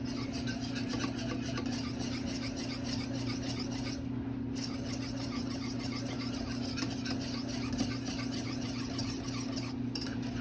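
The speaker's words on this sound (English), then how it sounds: "Just gonna keep whisking until I don't see any more butter, till it has all melted." A whisk working butter into a raspberry cremeux as it melts, a quiet, steady scraping and stirring close by, with no talk.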